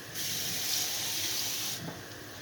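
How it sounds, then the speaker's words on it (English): A kitchen tap runs into a cooking pot for gravy with a steady, close rushing hiss, starting abruptly and cutting off after under two seconds, leaving a faint background. "I'm going to fill it up with some water."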